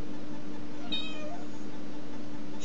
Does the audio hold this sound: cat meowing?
yes